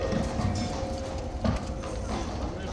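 A horse's hooves clop steadily on hard ground at a tourist spot, a few distinct heavy knocks standing out over a constant crowd and street hum.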